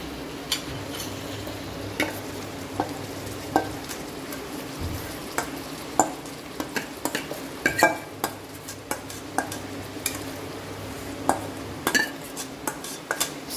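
A ground spice paste stirred into potatoes frying in coconut oil over a low flame: a steady soft sizzle runs throughout, with spoon scrapes and light clinks against the pan coming through at irregular intervals, close and with no voices.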